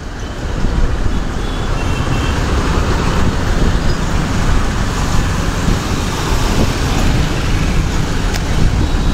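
Steady road traffic rumble from a bus on a route between Vinukonda and Vijayawada, a continuous broadband engine and tyre roar that stays loud and even throughout with no talk.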